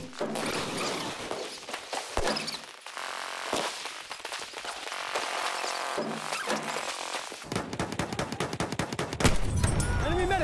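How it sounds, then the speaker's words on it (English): Machine gun fire rattles in a Battlefield 1 battle, rapid bursts among explosions, footsteps and shifting game noise, loud and dense throughout with a sharp run of shots near the end. "Enemy machine gun sighted!"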